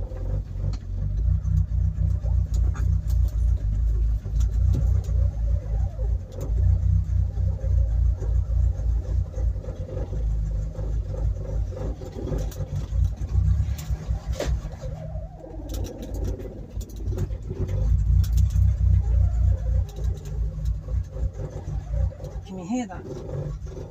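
Ford Cortina Mk3 engine running after being fitted with new engine mounts, a loud, steady low rumble that holds throughout with brief dips and swells, and people talking over it.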